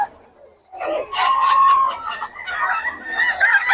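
A gamecock stag crows loudly and close, its drawn-out cry breaking into clucking calls over a few seconds.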